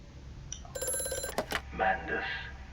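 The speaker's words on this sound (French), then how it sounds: "il y a un téléphone là. Ah, étonnant, ça sonne." An old telephone rings in the horror game Amnesia: A Machine for Pigs, a burst of bright electric bell trills followed by a second short ring, with a voice talking quietly afterward.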